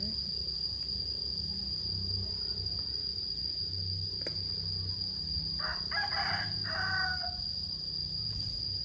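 A rooster crows outdoors on a foggy morning, giving two short calls midway through over a steady high insect drone and a low background hum.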